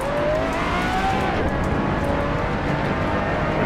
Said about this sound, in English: Now listen to the grit inside the wheel wells.